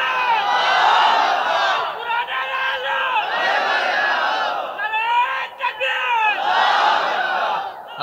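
Large crowd at an outdoor Islamic religious sermon shouting slogans in unison, loud repeated surging chant bursts that swell and fall in waves with brief dips between.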